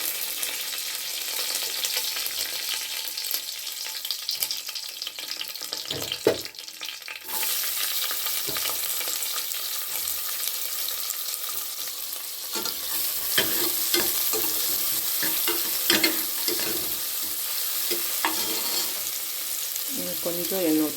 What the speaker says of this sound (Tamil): கடுகு பொரிஞ்சிச்சு, கருவேப்பிலை போட்டுக்கலாம்.